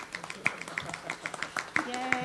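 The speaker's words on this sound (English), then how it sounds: "Oh, are we clapping for Dr. Smith?" An audience at a school board meeting claps for Dr. Smith, a sparse, uneven patter of hand claps in a room while someone speaks over it.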